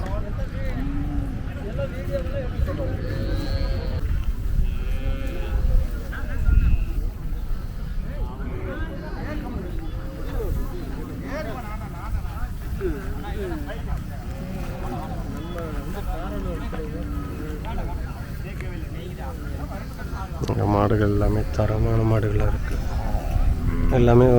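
Native cattle and bulls at a busy rural cattle market, with moos and lowing rising over continuous crowd chatter and market bustle, and people talking throughout.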